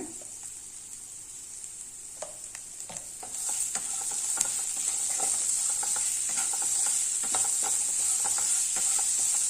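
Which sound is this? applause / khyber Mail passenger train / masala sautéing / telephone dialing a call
masala sautéing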